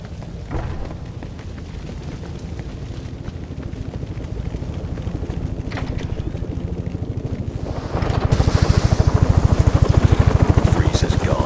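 Helicopter rotor chop in Batman Arkham Origins, a steady thudding pulse throughout that grows louder and fuller after eight seconds, mixed with game ambience.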